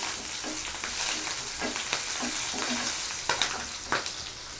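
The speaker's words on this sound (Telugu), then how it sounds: "ఈ ఆయిల్ కొంచెం హీట్ ఎక్కిన తర్వాత దీంట్లో ఈ పచ్చిమిర్చి ముక్కలు, కొంచెం లైట్గా ఫ్రై అవనిచ్చి" Green chilli pieces frying lightly in hot oil give a steady, close sizzle with scattered crackles and pops, heard alone with no talk.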